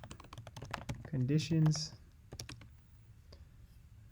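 Rapid clicks of typing on a computer keyboard, a quick irregular patter of keystrokes running throughout, while someone speaks briefly over the middle of it.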